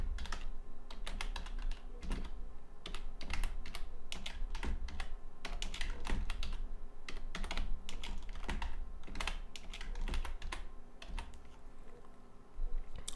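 Rapid, steady typing on a computer keyboard, close and clear, with dense clusters of key clicks and brief pauses between bursts while text is entered during web design work in Fireworks CS6.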